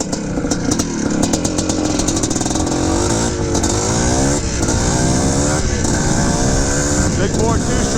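A 1979 Suzuki RM400 big-bore two-stroke motocross bike runs loud and close, with raspy revving that rises and falls in repeated blips over a ringing exhaust.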